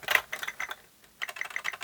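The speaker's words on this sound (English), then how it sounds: "this keyboard is lovely" Keys pressed on an Oric Atmos home computer keyboard, a rapid run of light close clicks, a brief pause, then another burst of quick typing, fairly quiet and with no voices.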